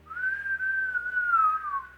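A person whistles a single clear, wavering tone alone for about two seconds, close and steady with a slight bend in pitch.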